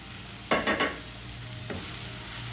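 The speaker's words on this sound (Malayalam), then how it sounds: "ഒരു ചെറിയ ടൊമാറ്റോയുടെ പകുതി എടുത്തിട്ടുണ്ട്, അതിനെ ഇട്ട് കൊടുക്കുവാണ്." Tomato and onion sautéing in a pan for a chicken gizzard dry fry, a faint steady sizzle with a few quick stirring scrapes in the middle and no talking.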